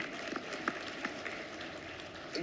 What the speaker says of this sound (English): go ahead, a round of applause to the NICE team